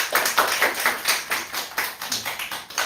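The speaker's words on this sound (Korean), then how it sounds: "우리 박수로 좀 환영해 주시겠습니까?" A church congregation claps in welcome during a Sunday service, a steady run of close, overlapping hand claps in a bright uneven rhythm lasting a few seconds with no voices.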